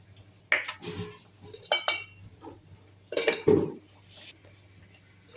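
Lentil pakoda batter being mixed in a bowl, several irregular clinks and scrapes of a utensil against the bowl, close and fairly quiet, with no talking.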